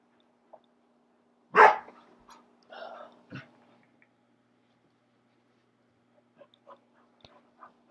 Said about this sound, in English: If I pet them, they'll stop barking.